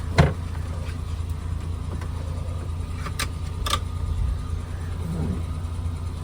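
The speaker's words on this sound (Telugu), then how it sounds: "వెహికల్ ఇంజిన్ సౌండ్ చూడొచ్చు" A Maruti Suzuki Omni van's engine idles steadily with a low, even rumble, broken by a few brief clicks and a small bump, and no talk.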